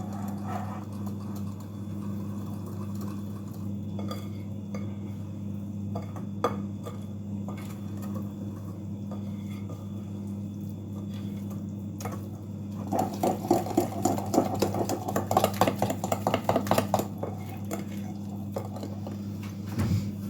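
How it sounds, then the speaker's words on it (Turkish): Batter containing vanilla is whisked in a bowl in a home kitchen, a quiet run of quick rhythmic taps and scrapes rising near the end over a steady low hum. "güzelce çırpalım."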